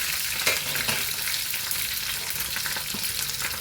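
Green chilies frying in oil for a tomato, mint and peanut chutney make a dense, continuous close sizzle, with light stirring scrapes scattered through it.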